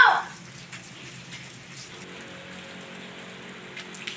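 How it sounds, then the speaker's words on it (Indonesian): Steady rain falls on an outdoor surface, a soft continuous patter that stays even and moderately quiet throughout, with no voices over it. "Hujan."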